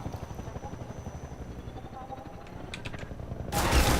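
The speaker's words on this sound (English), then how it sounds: "I hear the helicopter out there" A helicopter in the video game Half-Life 2 thrums with a rapid, rhythmic rotor chop under game noise, then a loud burst of gunfire erupts near the end.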